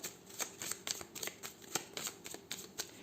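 Tarot cards being shuffled and drawn, a close series of quick crisp riffling flicks in an irregular rhythm, about a dozen sharp card snaps over a quiet background.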